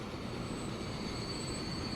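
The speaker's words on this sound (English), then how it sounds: "passenger train comes in" A passenger train arrives in the video game Transport Fever 2, giving a continuous rolling rail rumble topped by thin, sustained wheel squeals at a steady, moderate level, with no talk.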